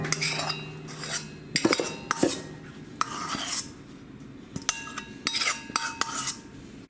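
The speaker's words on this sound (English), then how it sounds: "So you fold in this cake mix and your egg white really well" Egg white is folded into a chickpea flour cake mix for sugar-free muffins, with a utensil scraping and clinking against a bowl in irregular strokes, close and fairly quiet, no talking.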